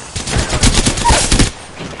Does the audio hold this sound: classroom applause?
no